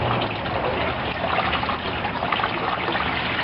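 Water poured from a jug into a small container holding tiny feeder fish in an aquaponics greenhouse, a steady close trickle and gush running unbroken throughout with no talk.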